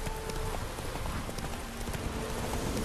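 Horse hooves clip-clop at a steady trot in the video game The Witcher 3, a continuous run of close, rhythmic hoofbeats over a dense ambient background.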